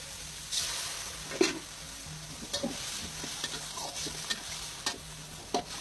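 Pork stir-fried with black pepper in a pan after a splash of soup stock, with a steady sizzle under repeated scraping and clanking of a utensil against the pan.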